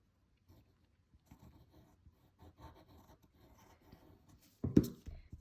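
Pencil scratching and rubbing on paper while drawing a figure in armor, with quiet irregular strokes, then a louder, brief burst of erasing near the end.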